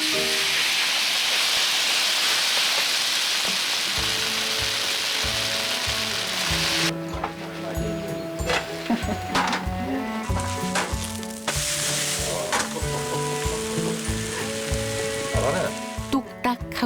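Continuous oily sizzling and crackling of Korean vegetable pancake batter frying in a pan, with occasional scraping and tapping of a utensil over the hiss.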